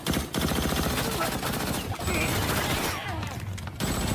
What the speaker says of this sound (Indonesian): dari sinilah baku tembak pun terjadi lagi